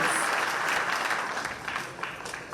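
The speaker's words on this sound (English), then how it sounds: "Can we please have a big round of applause for the newly elected President of International Ranger Federation." Audience applause at the World Ranger Congress in Sauraha, Chitwan, honoring the newly elected President of the International Ranger Federation; a steady wash of many hands clapping at moderate distance, slowly tapering off.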